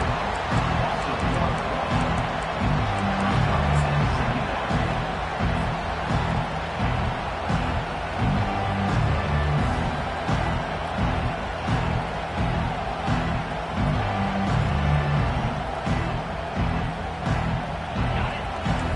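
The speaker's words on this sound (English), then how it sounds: "Listen to this crowd just shaking the girders of this place, trying to help their defense." A dense, steady roar from a large football stadium crowd, cheering and shouting continuously throughout with no breaks.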